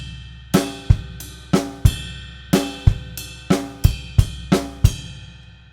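A drum kit plays a two-bar groove at a slow, steady tempo. Punchy kick and snare hits land under a ringing cymbal wash, repeating cleanly with no voices.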